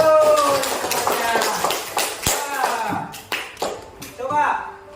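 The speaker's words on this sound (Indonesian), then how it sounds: "Tepuk tangan dulu" A class of students claps hands together, a loose burst of close, uneven claps mixed with voices, with the clapping thinning to a few scattered claps toward the end.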